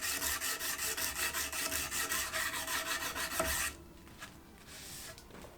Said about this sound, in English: to hand sand, and there I use a grit 120 to get rid of all the perpendicular grinding marks